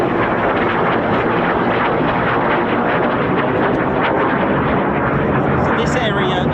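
F-15 or F-35 fighter jets of the US Air Force 48th Fighter Wing at RAF Lakenheath fly into the downwind leg of the circuit, making a loud, steady, broadband roar that rumbles without a break for the whole stretch.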